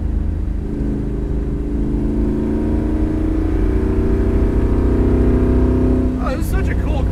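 A 1967 Ford Fairlane pulls hard in third gear, its engine note climbing steadily in pitch for several seconds under a constant road roar before easing off abruptly.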